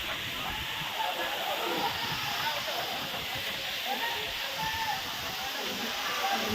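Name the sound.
Khandadhar waterfall pouring water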